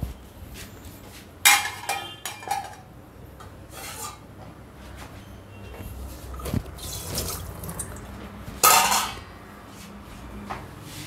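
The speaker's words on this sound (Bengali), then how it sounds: "এই হচ্ছে গিয়ে কই মাছটা হয়ে গেল, এটাকে লিড দিয়ে দিচ্ছি" A metal lid goes onto a pot of cooked koi fish amid kitchen handling: several sharp clinks and scrapes of cookware scattered over about ten seconds, with quiet rubbing and shuffling between them.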